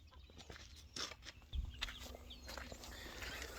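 Young pullet chickens clucking softly as scrap food is tossed to them near a homestead barn, scattered faint clucks mixed with shuffling footsteps and light rustling, no talk.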